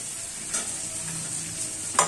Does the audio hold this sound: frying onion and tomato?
yes